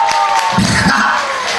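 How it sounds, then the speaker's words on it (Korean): A festival crowd at Ulsan's Ilsan Beach claps and cheers at a pumba performance. A short, loud wash of applause, whoops and shouting voices fills the space. "내가 혼란지 박수 한번 쳐봐."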